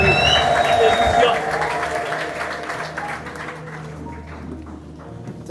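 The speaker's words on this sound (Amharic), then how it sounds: "እልልታ ጭብጨባ ለኢየሱስ አብዙለት።" A church congregation at an Amharic worship service claps and ululates, a dense burst of applause with high trilling cries that tapers into quieter scattered clapping.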